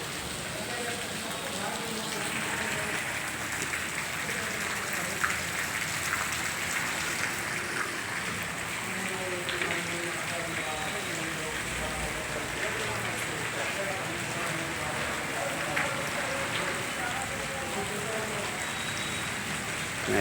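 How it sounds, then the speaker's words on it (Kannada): Heavy afternoon rain falling in Gundlupet, a steady hiss of downpour on surfaces continuing throughout, with someone talking over it at times. "ಯಾವ ರೀತಿ ಇದೆ ನೋಡಿ ಮಳೆ"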